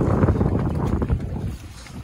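Wind gusting over a fishing boat at sea off Muncar, Banyuwangi, a steady loud roar of buffeting air and hull noise close to the microphone that eases slightly toward the end, with no talk.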